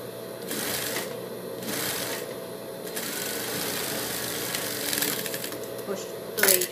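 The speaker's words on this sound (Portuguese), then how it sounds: "Costurei de um lado, olha só." A sewing machine stitching a fabric mask: several short bursts of fast mechanical whirring with brief pauses between, fairly close and moderately loud, ending in a sharp clack.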